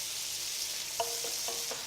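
Continuous hissing sizzle of meat for bullocky stew frying in hot oil, close up, with a few soft clicks and taps of stirring near the end.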